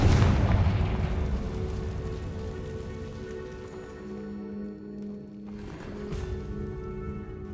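A spell blast in Hogwarts Legacy, a loud booming burst at the start fading into a rumbling crackle, with a second softer whoosh and hum later on.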